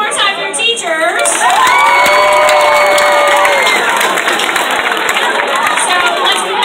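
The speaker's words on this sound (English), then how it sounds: "So give it up one more time for your teachers." At a school pep rally, a large crowd of students cheers for their teachers, with loud, high-pitched shouts and whoops over a wash of clapping and chatter, sustained and close throughout.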